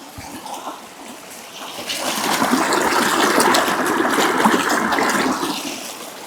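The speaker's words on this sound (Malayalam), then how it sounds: "വാട്ടർഫാളിൻ്റെ സൗണ്ടൊക്കെ കേൾക്കാൻ രസമല്ലേ" Rushing water swells after a couple of seconds into a steady, loud roar of a forest waterfall on Brahmagiri in Wayanad, then eases slightly near the end; no voices.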